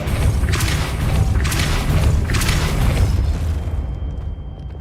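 Depulso spell cast in the video game Hogwarts Legacy: three heavy booming thumps with whooshing bursts in a fairly even rhythm, loud and close, fading to quiet at the end.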